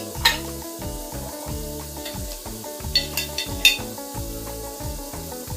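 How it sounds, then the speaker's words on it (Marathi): Onion sautéing in hot oil for drumstick khichdi, a steady sizzle with repeated scraping strokes of a spoon stirring the pan and occasional sharper metallic clinks, close and fairly loud, with no talking. "कांदा तेलावर फुलेपर्यंत परतवून घ्यायचा कलर बदलेपर्यंत तर आता कांदा चांगला असा परतवून झालेला आहे"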